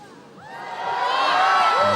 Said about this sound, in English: And the crowd chanting Stoy.